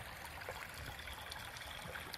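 Stream water flowing steadily in the woods at a deer camp, a soft continuous trickle and burble, quiet and even, with no voices.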